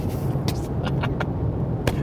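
A Holden Ute with nearly 200,000 km on it drives at speed, producing a steady low road-and-engine rumble, moderately loud and close, with a few short rattles and clicks from the cabin.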